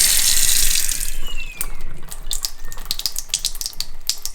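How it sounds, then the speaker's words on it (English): Water bursting from a faucet opened just downstream of a whole-house water filter, a loud hissing rush that fades and turns into an irregular spluttering of spurts and drips as pressure drops. "Now I'm just going to open up the faucet just downstream from this filter."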